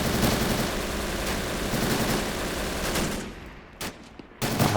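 Sustained machine gun fire in Men of War: Assault Squad during a D-Day Normandy beach landing, a dense continuous rattle that drops away near the end, followed by a few isolated shots.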